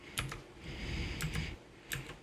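A sudo apt command is typed into a Linux Mint terminal on a computer keyboard, a few quiet, close key taps in small clusters with soft room noise between them.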